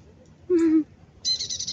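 A single bird call at Gardens by the Bay, Singapore, a short whistled note followed by a brighter, higher chirping burst, heard close over quiet background noise.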